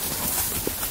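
Horse hooves clip-clop in a soft, uneven rhythm while the horse is ridden outdoors, with steady background noise and no clear talk.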